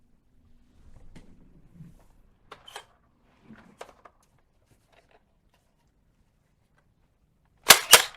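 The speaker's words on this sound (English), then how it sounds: "I heard the sound of 2 or 3 men angrily banging on the door, telling me to open up" Several men angrily banging on a front door at midnight in an animated story: two loud, heavy blows land close together at the very end, after a quiet stretch of faint scattered taps.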